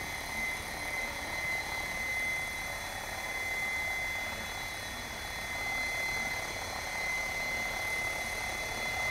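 Assault 700 RC helicopter hovering in the cold outdoors, a continuous high-pitched rotor and motor whine with gentle swells in loudness, heard steadily at moderate distance.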